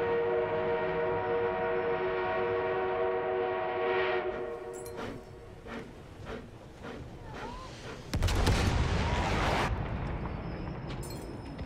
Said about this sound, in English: We have an armored train en route.